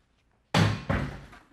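A battering ram strikes a door fitted with a pro deadbolt, giving a sudden heavy crash followed by a second thudding impact and a rattling decay, close and loud.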